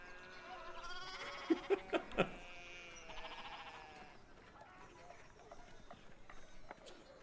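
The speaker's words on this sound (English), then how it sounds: "And the sheep are blocking the road once again." Sheep blocking a road in the game Pentiment bleat a few times in a quick cluster, fairly faint, followed by softer scattered calls and light footsteps.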